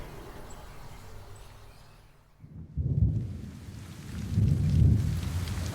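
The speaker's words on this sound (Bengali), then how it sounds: "আবার মুষলধারে বৃষ্টি শুরু হয়েছে, সঙ্গে বজ্রপাত।" Heavy downpour at night with thunder, used as a sound effect in a Bengali audio story: a soft rain hiss, a brief lull, then deep low rumbles of thunder rolling in twice, moderately loud.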